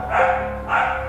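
Two loud, close dog barks in quick succession from dogs at home, each a short punchy burst with no other sound in between.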